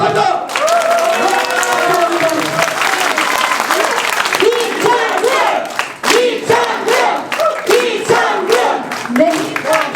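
A crowd at a Korean election campaign committee launch rally applauds after a candidate's speech, with loud, continuous clapping mixed with shouting and cheering voices that swell and dip across the whole stretch.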